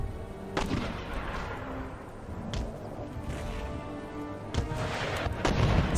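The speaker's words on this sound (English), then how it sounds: "Switch our artillery to firing round shot." Booming cannon fire from artillery loading round shot in the Empire: Total War battle game, several heavy distant thuds spread irregularly across a dense rumbling battlefield din.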